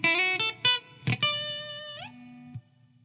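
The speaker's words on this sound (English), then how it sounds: "you can hear just a little hall reverb" A clean electric guitar through a Line6 Floor Pod with hall reverb plays a few plucked notes and a short slide, the tail ringing on into quiet afterward.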